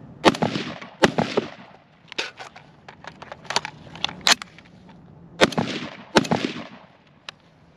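An IWI Tavor 7 bullpup rifle fires on an outdoor range: sharp, loud shots ring out in irregular pairs and singles across several seconds, with a few fainter clacks between them.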